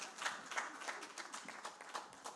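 Scattered clapping from a conference audience, a moderate burst of individual claps with an uneven rhythm lasting a couple of seconds and no voices over it.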